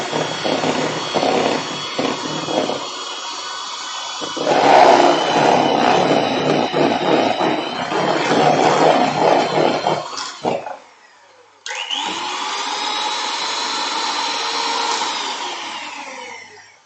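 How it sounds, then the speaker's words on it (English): An electric whisk beats cream with icing sugar into chantilly cream, giving a loud, continuous motor whine that shifts in pitch. It cuts out briefly near the end, then starts again with a steady drone. "Add icing sugar and whisk it down."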